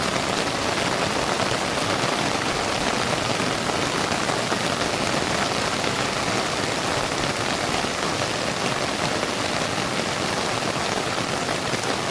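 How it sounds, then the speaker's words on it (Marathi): Torrential Konkan monsoon rain falls continuously, a thick even hiss and patter of drops on surfaces, close and loud from start to finish without any talk. "पाऊस पडतोय"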